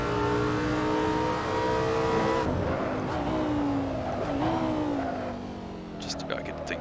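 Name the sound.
Lamborghini Sesto Elemento driving, video game Assetto Corsa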